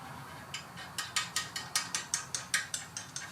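A ratchet wrench loosens 13mm bolts on a Ford F-150 front brake, clicking in a steady run of sharp, close ratchet strokes about every quarter second. Each stroke ends in a short decaying rattle over low background noise.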